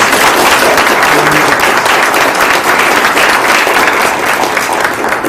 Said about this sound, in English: Let's have one more round of applause for our council members.